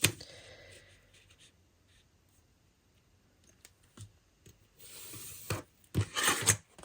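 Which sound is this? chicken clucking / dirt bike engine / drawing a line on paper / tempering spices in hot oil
drawing a line on paper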